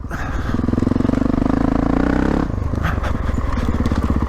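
A Honda CRF450RL dirt bike engine lugging too low in third gear chugs loud and close in a low, labored pulsing thump, then briefly eases before the heavy lugging rhythm returns.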